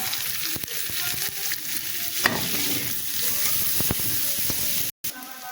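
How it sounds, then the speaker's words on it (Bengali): Chopped onions and lightly browned garlic fry in hot oil, giving a steady close sizzle with repeated scraping stirs and clicks from a spoon against the pan. "রসুনগুলো হালকা ভাজা হয়ে গেছে এবার পেঁয়াজ কুচি দিয়ে দিলাম"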